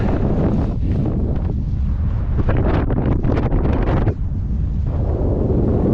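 Strong, continuous wind on a mountain top at Rennesøy, Norway, buffets the microphone with a loud, rumbling roar that surges and eases without pause.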